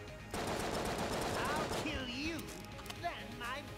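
Enemy gunfire rattles rapidly in the dungeon shooter Enter the Gungeon, dense continuous shots mixed with game effects while someone speaks over it.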